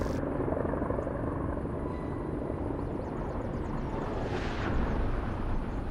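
The piston engine of a P-51 warbird in the DCS flight simulator drones steadily, a constant low propeller roar that swells slightly near the end, with no speech.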